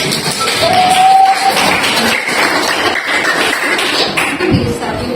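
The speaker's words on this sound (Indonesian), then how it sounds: "Boleh tepuk tangan dulu?" A class of eighth-grade pupils in an informatics lesson claps together, a mixed patter of hands with a few thumps under brief crowd noise and voices, and a short whistle-like tone near the start.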